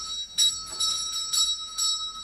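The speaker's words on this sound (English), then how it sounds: "They think I don't hear that bell." A bell rings out with a steady, sustained tone and several brighter repeated strikes over it, clear and moderately loud, with no voices.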